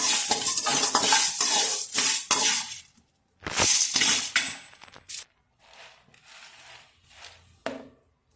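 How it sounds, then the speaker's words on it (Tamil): Dried chillies, urad dal and chana dal are dry-roasted in a pan on low heat, with loud scraping and rattling stirs in bursts, a pause, then quieter, fainter stirring and a final clink. "சிம்மில் வச்சு மிளகா உளுத்தம்பருப்பு கடற்பருப்பு எல்லாமும் நல்லா வாசம் வர வரைக்கும் நல்லா வறுத்து எடுத்துக்கோங்க"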